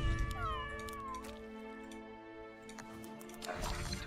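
A cat in the game Legion TD 2 meows several times, close and clear, with a rising and falling whine over a steady humming background.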